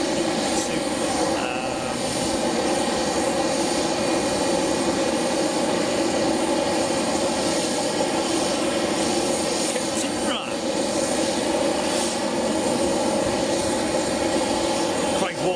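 A jet engine runs at Boeing Field airport, a loud, sustained roar with tonal whine that stays steady, with people talking over it at times.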